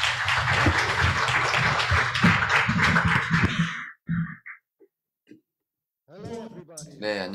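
An audience at a basic income congress closing ceremony welcomes a speaker with sustained applause from many hands for several seconds, then it stops abruptly, leaving quiet with a few small noises before speech begins.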